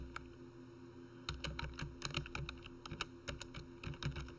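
Quick bursts of keystrokes clatter on a computer keyboard, starting after a moment of quiet and continuing in rapid, uneven runs of close, crisp clicks.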